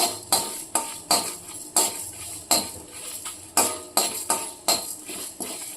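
A spoon scrapes and knocks against a kadai while spice masala for chicken ghugni is stirred, about a dozen sharp metallic strokes in a steady rhythm, close and clear with no talk.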